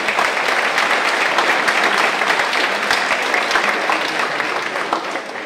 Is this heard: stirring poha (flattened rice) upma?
no